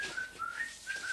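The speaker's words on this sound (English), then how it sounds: "Cut the whistling, Bentley." A humanized robot in the Fireman Sam cartoon whistles a tune in short, clear high notes, fairly close and alone with no talking.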